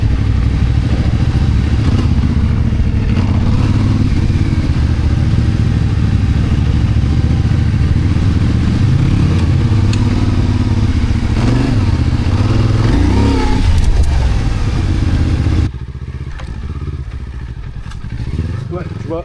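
Off-road motorcycle ridden down a gentle descent, engine droning and rising with short bursts of throttle and clattering over rough ground, loud and close, with a rider talking over it.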